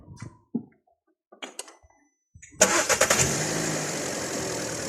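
A car engine is started after a few faint clicks and handling noises in a quiet workshop, cranking briefly then catching into a loud, steady idle that continues to the end.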